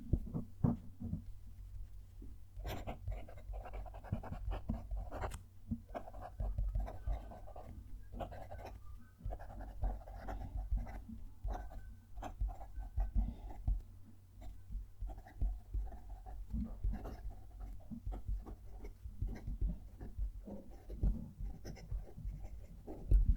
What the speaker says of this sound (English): I love writing with all of these pens, I will be honest.